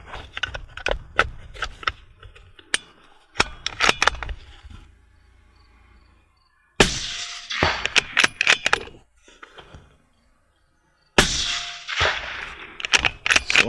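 Rifle shots ring off an AR500 steel spinner target on an outdoor range, coming as sharp cracks with bright metallic rings, first in a quick irregular string, then two louder bursts after pauses.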